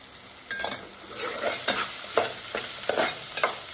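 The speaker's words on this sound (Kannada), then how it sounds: "ಕಾಯಿ ತುರಿ ಹಾಕ್ಕೊಳ್ತಾ ಇದ್ದೀನಿ" Grated coconut stirred into avalakki (flattened rice) frying in a pan, with repeated scraping strokes of a spoon over a steady sizzle, close up and with no talking.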